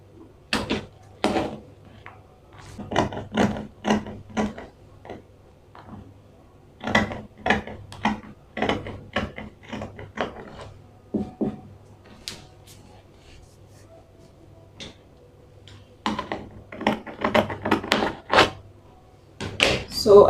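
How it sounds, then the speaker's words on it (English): Scissors cutting through fabric along the front armhole of a circle dress with a standing collar, heard as repeated bursts of crisp snips in clusters with short pauses between, fairly close and clear with no talk. "So I'm going to cut the front armhole now and the neck as well."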